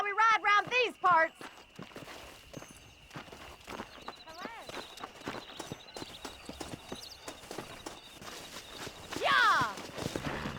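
Horse hooves clip-clop at a steady riding pace in the Red Dead Redemption video game, close and rhythmic, broken by shouted voices and a whinny near the end.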